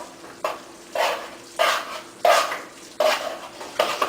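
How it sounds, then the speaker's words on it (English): Risotto alla Milanese stirred continually in a pan, a spoon scraping and sloshing through thick rice in about seven regular strokes, close and clear with no talk. "Does require continual stirring, doesn't it? Of course, all the time. Never stop."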